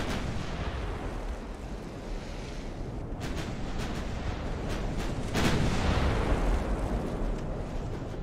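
Naval gunfire booms steadily in the Ultimate Admiral: Dreadnoughts video game during a 1942 Savo Island battle. The rumbling barrage is loud and dense, with sharper salvos cracking through it, and no one speaks.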